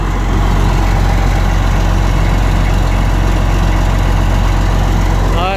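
A heavy American long-haul truck engine idles steadily just after starting, a loud, constant low rumble with dense vibration that fills the whole stretch without a break.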